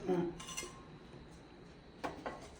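A metal pan set down on a gas stove, with a couple of quick clanks at the start and another pair of light knocks near the end, otherwise quiet kitchen room tone.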